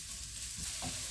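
Sliced onions hiss and sizzle in hot oil in a frying pan as they are stirred, a steady close crackle with a brief scrape toward the end.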